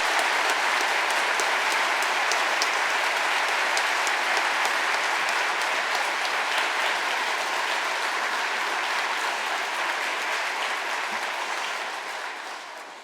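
A church congregation applauds at a pastor's installation service, a dense, sustained wave of clapping that fills the room for over ten seconds before tapering off, with no talking over it.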